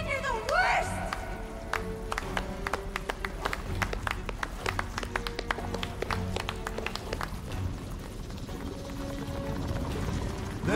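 Scattered, uneven hand claps sound during a scene in Marvel's Guardians of the Galaxy video game, a run of sharp slaps over a busy background with voices talking throughout.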